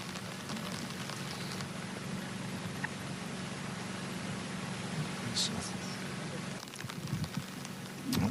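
Steady rain falls on an open golf course during the final round of a professional women's championship, a constant close hiss that runs without pause, with a few faint scattered background sounds.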